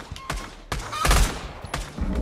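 Rapid bursts of gunfire in a VR monster-hunting game, several loud cracking volleys in quick succession with brief gaps between them, close and dense.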